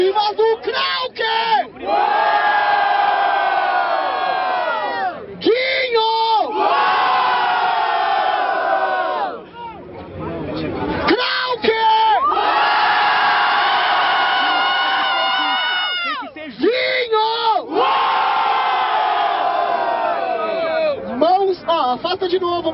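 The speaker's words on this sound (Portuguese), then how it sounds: "Barulho para as rimas do Krauke!" A crowd at a Brazilian street rap battle roars, whoops and shouts in long loud waves, close and dense, with brief dips between surges and voices chanting together.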